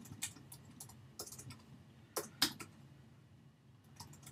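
Typing on a computer keyboard produces soft, sparse clusters of key clicks with pauses between them, faint and close, with no speech.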